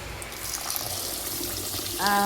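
Soaked rice for dosa is washed with water in a kitchen, a steady close rush of running, sloshing water with a brief clatter near the end.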